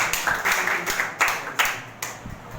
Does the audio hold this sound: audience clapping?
yes